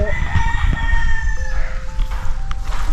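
Chickens cluck and a rooster crows amid steady outdoor rumble, with no talking; the birds sound fairly close.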